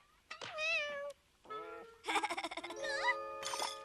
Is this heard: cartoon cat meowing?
yes